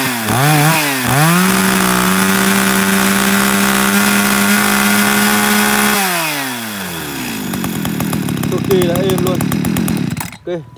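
A used Japanese chainsaw engine runs loudly up close, holding a steady idle drone and then revving down and changing pitch, with a rattling buzz near the end before cutting off.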